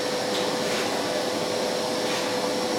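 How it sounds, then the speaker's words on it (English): A small electric pump inflates a car's slightly deflated tyres, giving a steady, close whirring drone with a constant high whine that holds unbroken throughout, with no talk. "Just going to pump the tyres up a bit."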